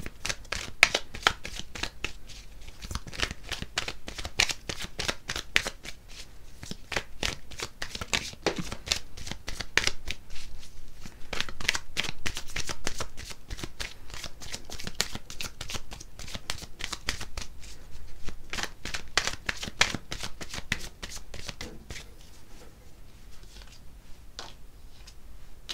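Tarot cards riffle and shuffle continuously for an extra draw, dense rapid papery flicks close up, steady throughout with no voice.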